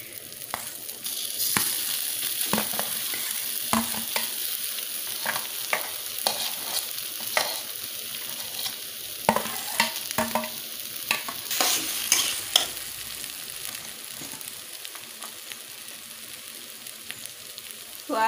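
Sliced potatoes sizzle and fry in spiced oil for aloo chop, with a steady crackling hiss broken by repeated scraping stirs of a spoon through the pan, close and moderately loud, no talking.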